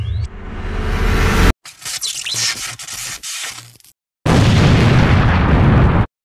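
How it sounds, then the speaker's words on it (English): Cartoon sound effects for a zap and explosion in a FlipaClip animation: loud, harsh bursts of crackling noise with short silent gaps between them, ending in a sustained roaring blast that cuts off abruptly. "I'm just gonna zap him anyways."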